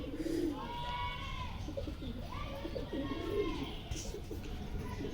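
Pigeons coo softly, with low, rolling, throaty calls repeating at a moderate distance over faint background hum; among them is a female garland pigeon kept for sale.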